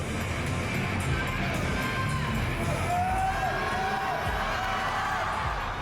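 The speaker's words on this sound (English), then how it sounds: "Give her a big round of applause." A crowd at a powerlifting meet, the 2018 Arnold, cheers and shouts in a dense, steady roar that fills the whole stretch, with scattered whoops rising above it.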